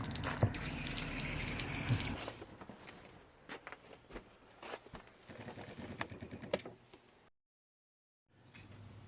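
Water gushes and hisses from a faulty camper city water connection whose internal stop has failed, loud at first, then easing into scattered clicks and handling noises before a brief silence.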